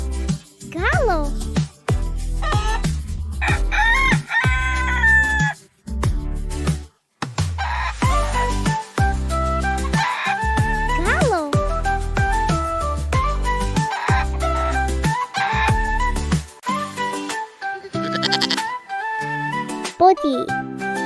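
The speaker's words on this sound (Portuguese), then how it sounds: "Galo." A rooster crows and clucks in repeated bursts on a farm, with a voice and other talk mixed in between the calls.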